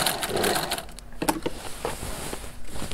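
A sewing machine stitches steadily and then pauses as the presser foot is lifted to change direction, leaving soft clicks and mechanical taps before the stitching noise resumes. The sound is close and moderately quiet, and no one speaks.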